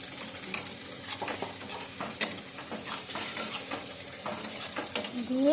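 Dumplings and potatoes with jaggery sizzling and frying in a pan while being stirred, with a steady hiss broken by repeated scraping and clacking strokes of a utensil, close up and without talk.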